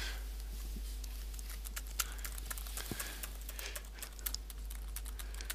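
Typing on a computer keyboard while writing in a shared online document, a steady patter of light clicks and key taps close by, over a constant low hum.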